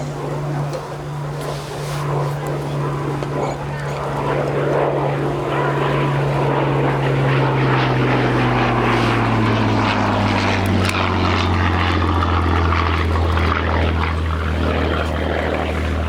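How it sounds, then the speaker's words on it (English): A Supermarine Spitfire Mk IIa fighter flies past at the Shuttleworth Military Air Show, its piston engine and propeller making a loud, sustained drone whose pitch slides steadily lower as it passes and recedes. "from the RAF Battle of Britain Memorial Flight,"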